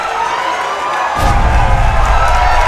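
Wrestling crowd at the Commodore cheering and shouting after a moonsault, loud and close, surging abruptly partway through into a fuller roar of whoops and yells.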